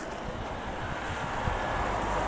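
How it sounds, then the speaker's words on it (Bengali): Strong gusty wind at Nathula Pass in Sikkim rushes steadily across the microphone, a dense, continuous roar that slowly builds in strength with no voices present. "হাওয়া বিশাল মারছে, টাক টাক করে হাওয়া মারছে"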